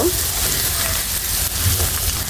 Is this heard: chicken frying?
yes